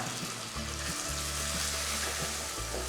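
Tomatoes sizzle and crackle steadily in a hot pan, with the occasional soft scrape of stirring.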